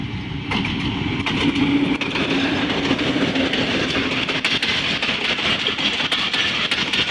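A Pakistan Railways locomotive hauls the Mehar Express at speed, heard from the cab as a loud continuous rumble with rhythmic clickety-clack of wheels over rail joints.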